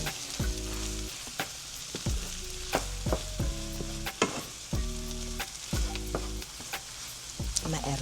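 Low-carb Southwest egg roll filling with cheese being stirred in a hot pan on a switched-off burner: a soft background sizzle broken by repeated rhythmic scrapes and clangs of a utensil against the metal pan, close, with no talk.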